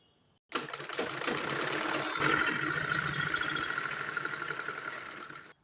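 An electric sewing machine stitching a pajama runs in one continuous whirring burst of several seconds after a quiet start, close and loud, then stops abruptly.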